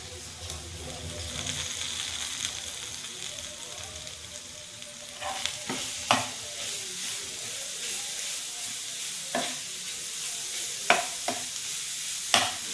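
A steady sizzle of spice paste roasting in a pan for momos fills the background while a utensil scrapes and clinks in the pan every few seconds.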